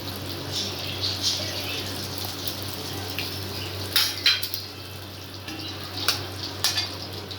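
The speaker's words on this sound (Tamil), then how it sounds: "இதில் மட்டை முட்டையை உடச்சி ஊற்றிக்கலாம் மூணு முட்டை ஊற்றிக்கலாம்" Eggs cracked and poured into hot oil in a pan for egg fried rice, giving a steady low sizzle with a few brief clicks and splashes near the end, no talking.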